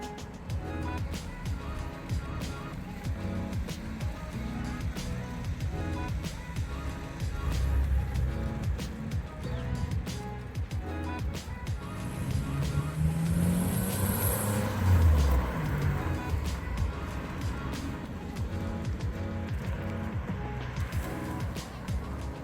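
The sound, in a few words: 1995 Mitsubishi 3000GT driving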